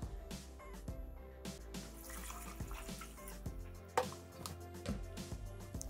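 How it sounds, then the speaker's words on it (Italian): Water runs and splashes steadily into a Thermomix bowl holding rice and wine for a zucchini flower risotto, a continuous pouring wash with a brief louder splash near the end, close by and without talk. "Aggiungiamo l'acqua."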